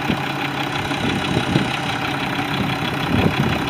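A 2004 Mack CH613 truck with a 460 Mack engine, 13-speed transmission and dual pipes idles in a steady, low rumbling loop with faint knocking pulses, close and alone.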